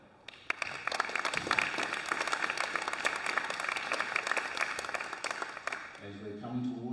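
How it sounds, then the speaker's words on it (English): Audience applause for a finalist at a women's 10m air rifle final, steady dense clapping filling most of the clip before fading into a brief tonal sound near the end. "please give a warm round of applause for Rachel Saints from Victoria"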